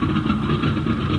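Steady, close drone of a warplane's newly fitted engine running continuously with a low rumble and no break, staged as a radio drama effect.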